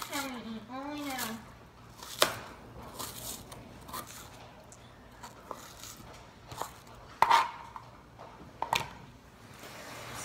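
Knife cutting onions on a board for homemade spaghetti sauce; scattered sharp chops and crunchy taps at irregular intervals, close and fairly quiet, with some handling noise between strokes.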